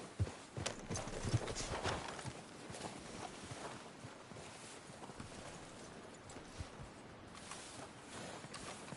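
Horses in the video game Red Dead Redemption 2 clop along over uneven ground, with irregular hoof thuds, snorts and a faint whinny set against a low outdoor ambience.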